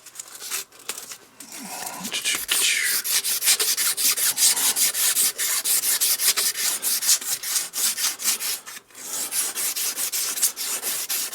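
A file or abrasive works lightly over the arbor of a new cap-and-ball revolver to take off burrs, rapid rhythmic rasping strokes repeating close up for about eleven seconds.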